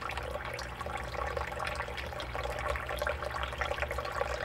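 Water washing crushed, incinerated IC chip remains through a gold sluice over its riffles, a steady rushing, gurgling flow, close and continuous with no pauses.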